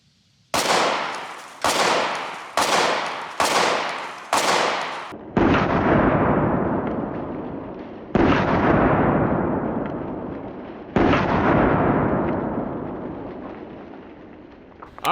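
Eight loud, sharp gunshots from a .500 Magnum revolver fired upside down, the first five in quick succession, then three heavier blasts spaced a few seconds apart, each with a long rolling echo.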